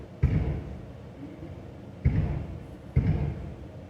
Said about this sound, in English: it sounded like gunshots, but I think it was actually like a garbage truck